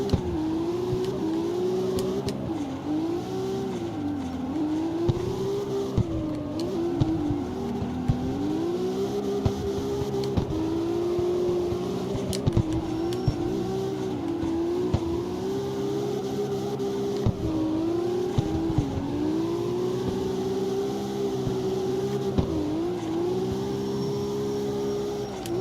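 Street race car engine in CarX Street running with nitrous, a loud, sustained revving drone that rises and dips through gear changes across the whole stretch, alone with no talk.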